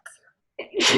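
A single sharp sneeze bursts out near the end, preceded by a brief breathy intake and faint voice sounds.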